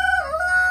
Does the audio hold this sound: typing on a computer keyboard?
no